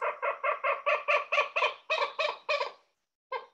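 A rapid series of about a dozen clucking, cackling common gallinule calls, close and clear, trailing off with a pause before one final note.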